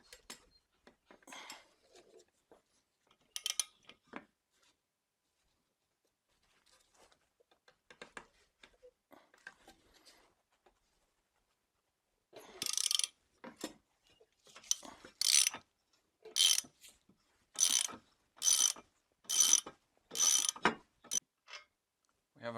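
A nut on a boat is worked loose using a piece of wood jammed in for leverage, first with scattered faint taps and clicks, then a run of sharp, rhythmic metallic ratcheting strokes up close.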